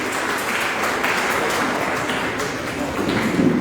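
An audience at the Ujas Magazine Award 2022 ceremony applauds as an award recipient walks onto the stage, steady close clapping that carries through the whole moment.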